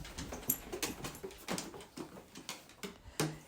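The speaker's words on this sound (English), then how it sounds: "you might hear my dog in the background here" A dog rummages and gets into things nearby, making irregular soft scuffles, taps and patters with a faint whimpering note, fairly quiet and without speech.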